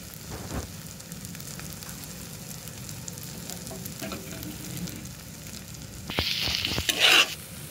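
Food and spices, garam masala among them, sizzle and crackle in a frying pan while being stirred, soft at first and then a louder, brighter burst of frying near the end.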